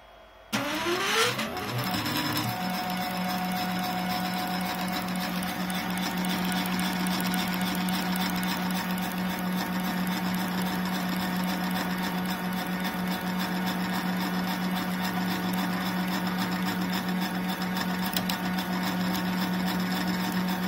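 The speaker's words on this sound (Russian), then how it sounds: "Мотаем символических, точнее реальных 100 витков." Coil winding machine spinning 0.55 mm wire onto a 31.5 mm wide form for about 100 turns, starting up and then holding a steady, even mechanical whir with a constant hum for the rest of the clip.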